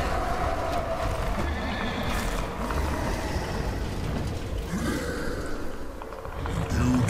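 A horse neighs and whinnies in the video game Darksiders, loud and close, with clip-clop hooves and heavy ambient game noise, and an excited voice talking over it.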